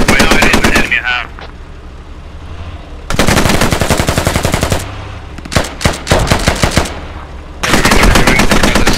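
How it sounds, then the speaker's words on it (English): .50 caliber machine guns roar in a tactical squad multiplayer shooter: several loud, close bursts of rapid automatic fire, separated by brief quieter gaps. "They're wall banging us with the fucking 50s."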